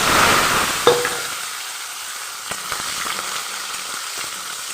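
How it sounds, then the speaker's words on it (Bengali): Diced potatoes drop into hot oil with spices tempered in it, a loud burst of sizzling that settles into a quieter steady fry, with occasional scraping and tapping from a stirring spoon. "আলুটা খুব ভালো করে ভাজা হবে"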